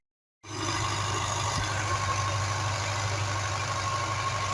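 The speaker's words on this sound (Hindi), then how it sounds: "ट्रैक्टर से खेत की तैयारी हो रही है और ज़मीन को बड़ा अच्छे तरीके से नरम किया जा रहा है" A tractor engine runs steadily while preparing a farm field, a continuous low mechanical drone starting abruptly and holding at an even, fairly close level.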